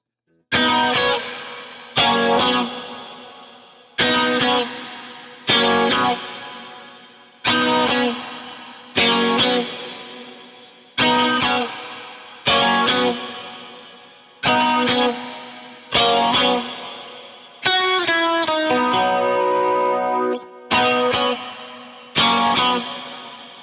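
Electric guitar plays a verse section with the intro through effects like distortion and chorus, strummed chords hitting in a steady rhythm of about fifteen sustained strikes, loud and unaccompanied.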